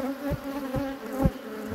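Bees buzzing around an apiary hive, a close, continuous droning hum with a few louder swells as individual insects pass near.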